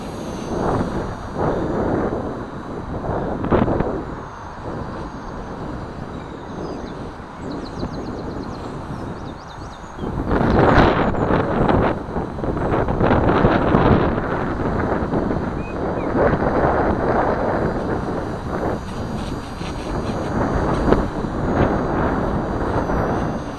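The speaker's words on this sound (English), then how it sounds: "The wind's actually really strong today" Strong outdoor wind buffets the microphone in long rumbling gusts, swelling and easing over the whole stretch, loudest in the second half.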